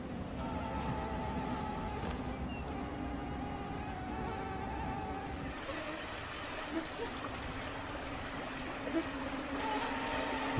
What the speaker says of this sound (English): most of the tundra is covered in mosquitoes.